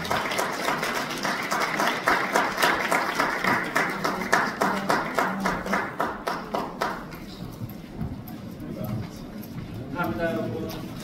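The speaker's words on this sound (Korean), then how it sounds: "다시 한번 큰 박수 부탁드리겠습니다" Audience applause at an indoor event, heard as rhythmic, evenly paced group clapping at close range for several seconds before it breaks off, while a voice speaks over the quieter tail.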